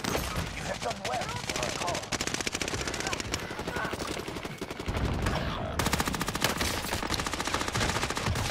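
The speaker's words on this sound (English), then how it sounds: "Shots over here!" Video game gunfire, sustained rapid machine-gun bursts rattling steadily throughout, loud and unbroken, with a voice talking faintly underneath.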